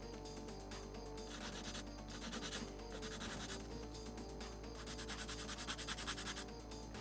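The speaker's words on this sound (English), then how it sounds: "so I'll be starting with the sanding block" Steady, continuous abrasive rubbing of a 120-grit sanding block against a plastic Gunpla model part, close up, with a slight back-and-forth rhythm and no talking.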